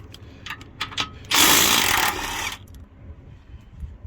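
A power tool works on the sway bar link bolts of a Jeep JL. A few light clicks and taps come first, then a loud burst of whirring lasting about a second and trailing off, close by.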